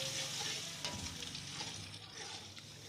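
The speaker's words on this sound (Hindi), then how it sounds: "अब इन मसालों को अच्छी तरह भूनेंगे।" Masala spices cooking down with tomato paste in a pan for a fish curry, giving a steady, moderately quiet sizzle with occasional stirring scrapes and no voices.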